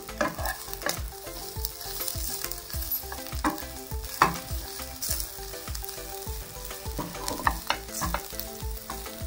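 Pieces of fried mackerel stirred into a sizzling pan mixture for fish podimas, with repeated scraping and clinking strokes over steady frying crackle, close and fairly loud.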